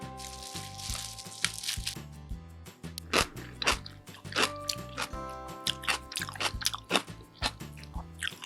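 Crunchy young radish kimchi (yeolmu kimchi) seasoned with sand lance fish sauce is bitten and chewed up close, giving repeated crisp crunches in an irregular rhythm over quiet background music, with no voices.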